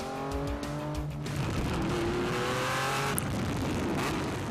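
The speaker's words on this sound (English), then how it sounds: "the performance of the Boxer motor is an inspiration, its sound, pure poetry." A Porsche 911 RSR race car with a flat-six Boxer engine runs hard, its loud rising engine note climbing through gear changes with tire noise and steady roar close by, alone without talk.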